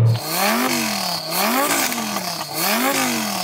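A Lamborghini Huracan engine revs repeatedly against a 4,000 RPM soft limiter, rising and falling in loud, sustained sweeps heard up close with no talk.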